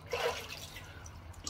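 Cold water splashed onto a face before a wet shave, one brief close splash and dribble followed by faint trickling in a quiet room.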